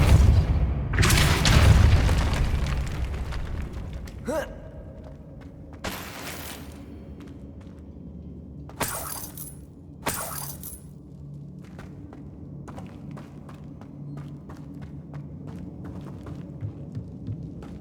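The Depulso spell cast in Hogwarts Legacy, a heavy booming blast followed by scattered metallic clanks and short bursts of impact over a quiet game background, with no talking.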